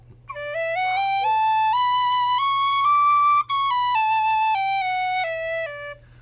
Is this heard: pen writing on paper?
no